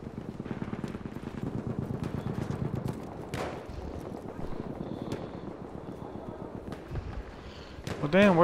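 Horse hooves clip-clop in a steady rhythm through Battlefield 1 gameplay, mixed with wind, distant gunfire and someone talking, the clatter strongest early before fading under the battle noise.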